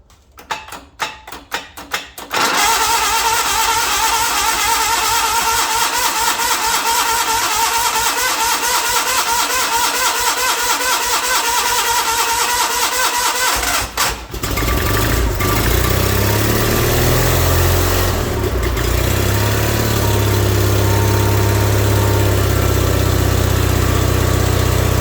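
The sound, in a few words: Onan engine of John Deere 318 tractor starting and idling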